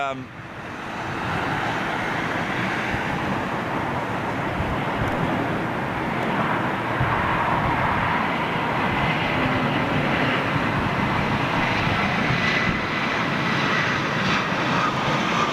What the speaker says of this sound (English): That's a freighter, isn't it?